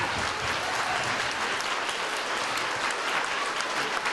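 An audience at an elementary school reunion for a returning soldier and his daughter breaks into sustained, loud applause, a dense, even clapping that fills the room throughout.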